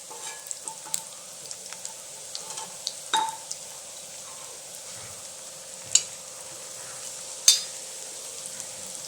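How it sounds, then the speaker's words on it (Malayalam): Pieces of tender jackfruit dropped into hot coconut oil give a soft, steady sizzle, with a few sharp crackles and pops rising above it now and then and no voices. "ഞാനിപ്പം വെളിച്ചെണ്ണയിലാണ് വറുത്തെടുക്കുന്നത്"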